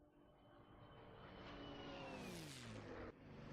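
Engine of a WWII propeller fighter in a combat flight simulator pushed to full throttle, a loud sustained roar with a whining tone that rises and sweeps downward as it passes, then dips abruptly near the end.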